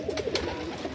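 A male Kaldoma pigeon gives a short, soft coo, heard close and alone.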